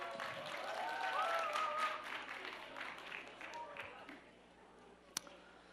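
A church congregation claps, with moderate, fairly faint applause that peaks early, then thins out and fades, while voices talk over it and a sharp knock sounds near the end.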